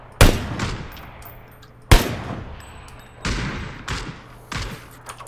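Rifle gunfire in a video game: several separate sharp, loud shots spaced out over a few seconds, each followed by a short decaying echo tail, heard close with no talk.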